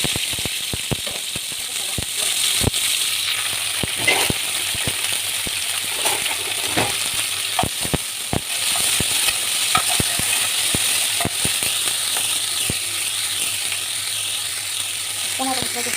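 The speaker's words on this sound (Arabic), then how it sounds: "انا هشوح الاول الفلفل والبصل والثوم عشان الزيت ياخد الريحه بتاعته" Peppers, onion and garlic sautéing in hot oil, a continuous bright sizzle broken by frequent sharp spoon taps and stirring scrapes against the pan.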